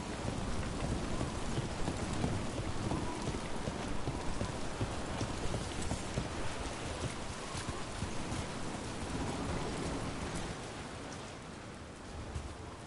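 Steady rain pouring in Dragon Age, dense continuous hiss with pattering drops, fairly loud and unbroken for the whole stretch, softening slightly near the end, no voices.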